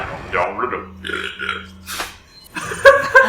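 A low, drawn-out burp croaks in the middle, loud and close, with people talking before and after it.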